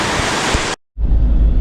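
Heavy rain pouring down hard outside a house in Thailand, a loud, dense hiss that cuts out completely for a moment, then returns with a deeper rumble.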